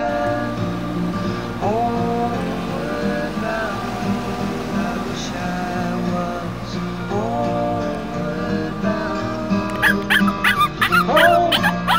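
A dog yips, whimpers and barks in short bursts, loudest near the end, mixed with music and a singing voice.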